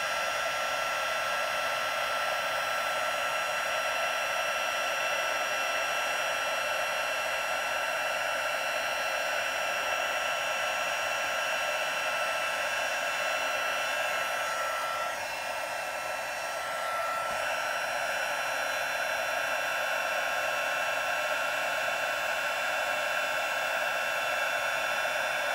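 A heat embossing gun blows steadily at a card coated with gold glitter embossing powder, a continuous loud whooshing hum like a hair dryer that runs unbroken for the whole stretch, with no talking.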